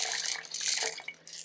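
Popcorn kernels poured into a jar of water during a preschool activity, a short burst of splashing, pattering water that is close and fairly soft.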